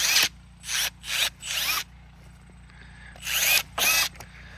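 A Milwaukee M12 cordless pruner makes repeated short powered bursts as it struggles through a branch, several distinct whirring pulses separated by silent gaps, loud and close.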